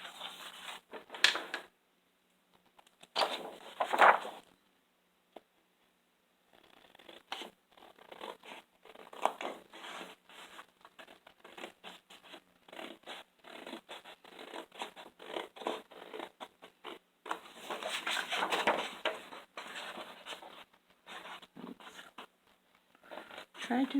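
Scissors cutting along a marked line on a Dollar Tree craft piece, heard as close, irregular snipping and scraping strokes with pauses between them while a person talks in between.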